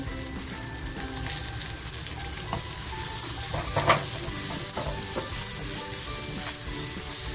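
Chopped onion frying in oil with browned garlic in a pan, a continuous close sizzle with scattered stirring clinks and scrapes, moderately loud and unbroken.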